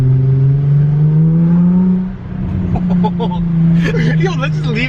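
Straight-piped Jaguar F-Pace S exhaust revs loudly and up close with a deep, steady drone that rises in pitch, dips, then climbs again while people talk over it.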